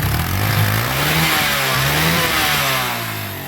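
A Suzuki GN125 motorcycle with a carburetor problem and excessive fuel consumption revs up close, its mid-pitched engine note rising and falling through two strong pulls before easing off.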